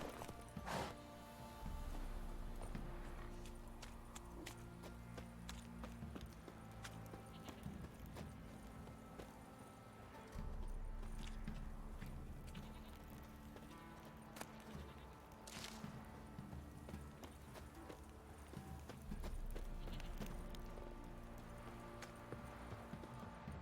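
Horse hooves clip-clop steadily in The Witcher video game, with a soft whinny and other game sounds mixed in. The rhythmic walking hoofbeats run through the whole stretch at a moderate, fairly close level.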